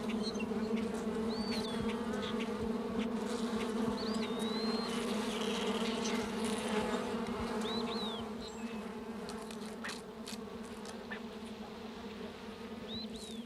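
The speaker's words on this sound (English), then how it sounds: "The fox squirrel shares this area of oak hickory habitat with a colony of honeybees." A colony of honeybees hums steadily in an oak-hickory forest, a continuous droning buzz at moderate level with occasional birdsong calls far off, easing slightly quieter partway through.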